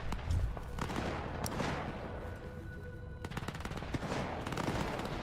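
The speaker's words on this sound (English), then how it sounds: "That's gunfire." Gunfire crackles through a scene in the video game S.T.A.L.K.E.R. 2, with bursts of automatic shots and single cracks, some close and some more distant, over a dense steady background din.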